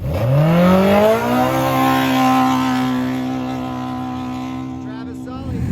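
A powerful UTV engine races across the desert, its loud tone climbing quickly in pitch and then holding a steady, high drone before easing slightly toward the end.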